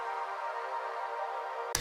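A high pad from a Serum synth patch in house production, a soft sustained bright chord held steadily and faintly alone, ending in a brief burst of noise.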